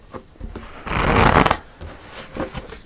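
Tarot cards are shuffled close up in a quick riffling burst lasting about half a second, framed by softer handling rustles before and after.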